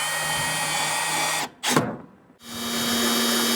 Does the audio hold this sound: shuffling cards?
no